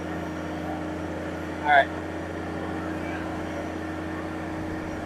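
A Deere 1023E compact tractor engine drones steadily at high RPM near 4,000 while scooping, a constant close mechanical hum. A short spoken remark rises briefly above it.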